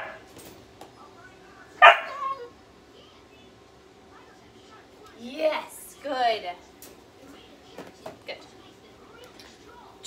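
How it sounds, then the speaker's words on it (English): A puppy whines and yips in short bursts, near and fairly loud, with quiet pauses between them in an indoor room. "could try not to come back to your puppy if they are whining like that"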